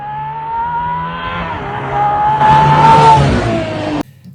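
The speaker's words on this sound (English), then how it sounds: "today I saw a video of the the Valkyrie on the track, and that V12 sounds insane" An Aston Martin Valkyrie's V12 screams on a track as it plays back through a phone speaker, one continuous rising engine wail with harmonics climbing in pitch, then cutting off abruptly near the end.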